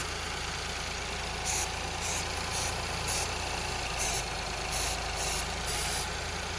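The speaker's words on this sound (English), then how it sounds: "Listen to the engine changing." Ford Fiesta engine idling steadily with a low rumble, while short bright hissing bursts of sprayed brake cleaner come in about eight times, the idle shifting slightly.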